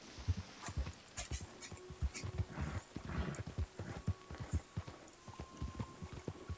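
Horse hooves clip-clop on the ground in the Red Dead Redemption 2 video game, a quick, uneven run of sharp hoof strikes at a trotting pace, moderately close with a soft background hiss.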